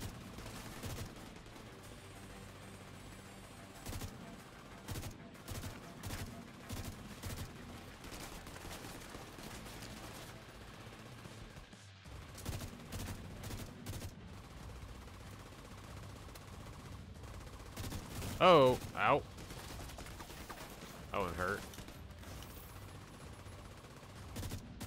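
Gunfire in The Division 2 during a boss fight with an armored enemy, a steady stream of bursts running under game sounds, with a louder flurry of shots near the end.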